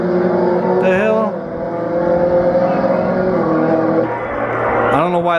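A Chevrolet Camaro ZL1 and a Jeep Trackhawk roar through a drag race, engines revving hard with rising and falling pitch as gears shift, loud and close.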